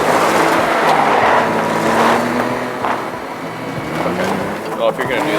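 Rally car engines from the video game Teardown drone steadily throughout while a voice speaks over the racing.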